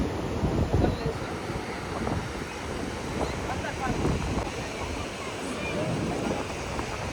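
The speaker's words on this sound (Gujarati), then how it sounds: "દરિયામાં આટલા મોટા મોજ આવે" Big sea waves break and wash continuously along the rainy coast at Diu, heavily buffeted by wind noise on the microphone, with faint voices mixed into the roar.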